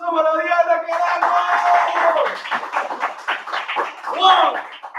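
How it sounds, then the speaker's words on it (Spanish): Clapping for Diana during a bartending cocktail master class, a busy patter of hands running under loud shouting voices and a small crowd's cheering. "¡Un aplauso para Diana! ¡Que gana!"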